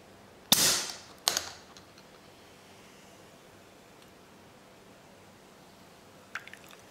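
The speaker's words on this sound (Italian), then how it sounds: "Aggiungiamo 2 cucchiai di birra, adesso vado ad aprirla." A bottle of bottle-fermented beer is opened with two sharp close pops, the first followed by a gassy hiss that fades, then quiet with a faint clink near the end.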